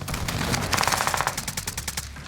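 Rapid bursts of gunfire from an HDR sniper rifle in the video game Warzone, a quick sequence of sharp cracks, loud and close, with no talk.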